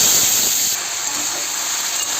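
Potatoes and yard-long beans frying in hot oil in a pan, giving a loud, continuous bright sizzle and hiss that holds steady throughout, with no talking.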